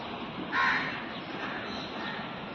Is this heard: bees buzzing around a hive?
no